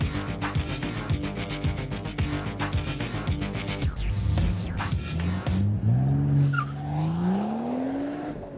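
A BMW M135i launches hard from a standing start on a track, its engine note climbing steadily in pitch for several seconds, with possible tire squeal, after a stretch of music at the beginning.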